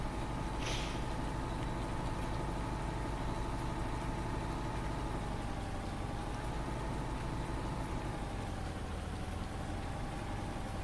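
A tractor engine idles steadily in Farming Simulator 19 during late-evening farm work, a constant low mechanical drone with a faint tonal hum running unbroken throughout, with no talking.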